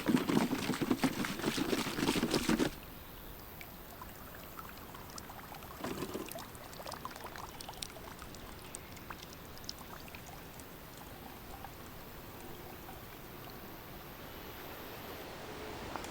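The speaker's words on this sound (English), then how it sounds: "Use a charcoal to filter your water." Water poured through a homemade charcoal filter in a rough survival setting, a steady close splashing pour for a few seconds that stops abruptly, followed by quiet outdoor background.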